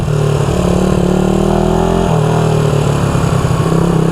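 A 1974 Honda CB360 motorcycle engine under full throttle, a loud continuous droning roar with a steady pitch that shifts slightly midway, close and alone.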